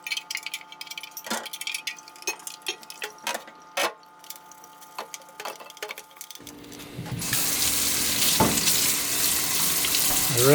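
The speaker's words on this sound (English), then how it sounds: "I rinse the vinegar out really well with hot water." Hot water gushes steadily from a tap, rinsing vinegar out of a hummingbird feeder, starting partway through after some quieter clinks and rustles, then running loud and continuous to the end.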